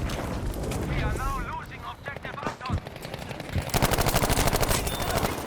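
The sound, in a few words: heavy machine gun fire from a video game (Battlefield 5)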